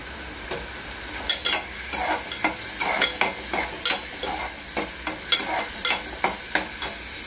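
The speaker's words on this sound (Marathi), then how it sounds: "कांदा पूर्ण भाजायचा आहे" Onion fries in oil in a pan for chana masala, with repeated rhythmic scraping and stirring strokes over a soft sizzle, close and moderately loud with no talking.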